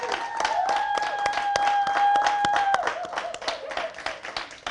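A church congregation claps to celebrate people during a service, a dense run of hand claps mixed with sustained musical tones that fades toward the end.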